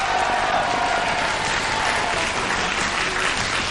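A game show studio audience in 1991 breaks into steady, close, dense applause with a little cheering mixed in, the clapping sustained at an even level from start to finish.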